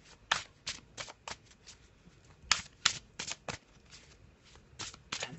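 Crisp riffling bursts of a tarot deck being shuffled, several quick ruffles close by in a quiet room.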